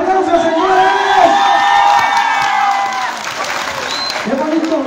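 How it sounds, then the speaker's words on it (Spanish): A crowd claps and cheers loudly at the September 16, 2022 festivities in Santa María Malacatepec, Ocoyucan, with sustained applause and shouts that ease slightly toward the end. "¡Venga los aplausos, señores!"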